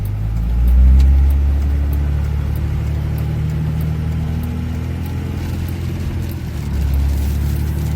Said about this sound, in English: You know, you hear the exhaust back there.